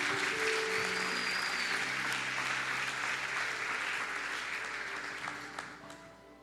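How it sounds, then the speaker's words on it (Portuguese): A church congregation claps in praise during a service, a broad wash of applause heard in a reverberant hall over a low sustained organ-like hum, gradually fading toward the end. "vamos dar uma salva de palmas ao Senhor"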